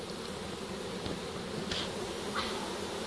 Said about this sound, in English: that's a lot of bees in here.